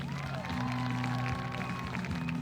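Crowd in the stands at a high school football game applauding the senior cheer team on senior night, a steady wash of clapping and cheering that continues throughout, with a sustained tonal sound running beneath it.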